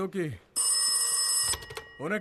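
A telephone rings loudly in one sustained burst at night in a haunted house, with voices talking just before and after the ring.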